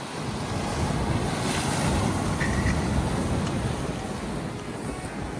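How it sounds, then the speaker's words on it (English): A large ship's wake churns and washes in a steady, loud rush of surf-like water, heavily buffeted by wind across the microphone, with no clear voices. "that's the wake."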